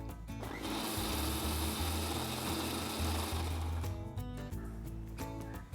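A blender whirs loud and steady, grinding cooked short-grain rice into Kerala-style appam batter; the motor runs continuously, then its pitch shifts and it slows near the end.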